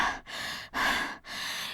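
A woman pants heavily after a fight, three long rasping breaths in and out in steady rhythm, close and breathy with no other sounds.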